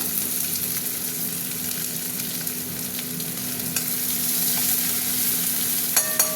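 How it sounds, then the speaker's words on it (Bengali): Onions sizzle steadily in hot oil, a continuous crackling hiss with a few faint clinks near the end, close and fairly loud. "পেঁয়াজটা একটু ভাজা ভাজা হবে"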